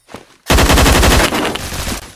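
Video game weapon fired after a firing-mode switch: a loud, sustained automatic burst of rapid shots lasting about a second and a half, then a trailing rattle, preceded by a brief quieter click.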